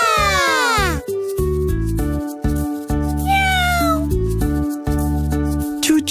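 A cartoon kitten meows repeatedly in a children's animated story, high sliding cries over a steady background music bed, with a chirpy voice-like tone throughout.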